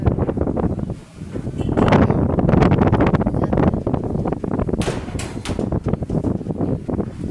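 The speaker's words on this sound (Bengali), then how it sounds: "প্রচন্ড বাতাস।" Strong wind gusts roar outdoors under a stormy sky where children are playing, a loud, continuous buffeting rush that dips briefly near the start and then swells again, with no voices.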